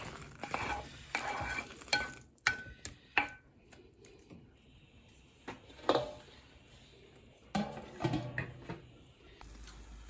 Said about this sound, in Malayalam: അപ്പോൾ ഇടയ്ക്ക് തന്നെ ഇളക്കി കൊടുക്കണേ, അല്ലെങ്കിൽ അടുക്കി പിടിക്കാൻ സാധ്യതയുണ്ട്